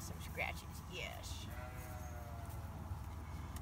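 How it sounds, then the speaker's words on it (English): Sheep at a farm animal refuge bleat twice in quick succession, fairly close, over steady outdoor background noise, with a person talking nearby. "Now, Bo and the other sheep you see behind us came from upstate New York"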